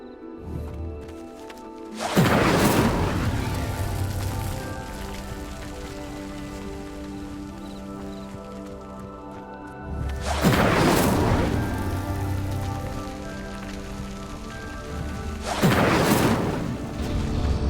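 An Incendio spell lights pyres in Hogwarts Legacy, giving three whooshing fiery bursts that flare up loud and then fade into a crackling rumble. A low ambient drone runs underneath and no speech is heard.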